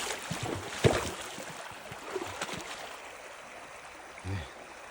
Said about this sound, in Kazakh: Еріп жатқан судың қараңыздар қандай деңгейде.